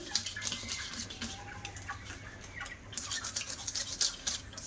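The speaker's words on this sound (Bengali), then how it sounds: "প্রত্যেকটা পাতায় তেল ব্রাশ করে নেব" A brush spreading oil across a leaf for making pitha, quick close bristly swishing strokes that come in bursts, with faint background noise and no speech.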